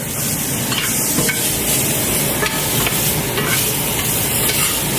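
Mushrooms sizzle loudly and continuously in a hot pan, a dense close crackle with occasional soft clicks of stirring and no talking.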